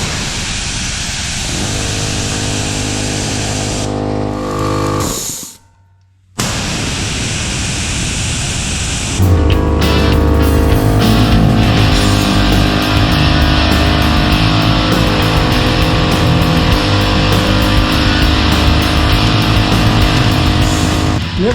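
An air compressor motor being repaired for not building pressure hums loudly, cuts out briefly, then kicks back on and runs with a steady, louder mechanical drone and rattle.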